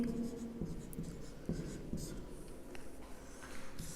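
Chalk or marker writing on a board during a commerce management lecture, with faint scratchy strokes repeating through the clip in a quiet room.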